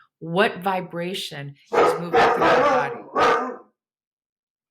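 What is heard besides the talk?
dog barking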